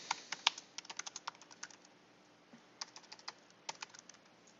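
Quick bursts of typing on a computer keyboard, crisp close key clicks in two irregular runs separated by a short pause, quiet overall.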